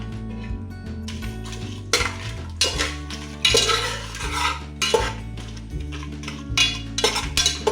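Bay leaves, fennel seeds and kasuri methi stirred in hot ghee in a pan for white pulao, with a utensil scraping and clinking against the metal in repeated strokes over steady background music.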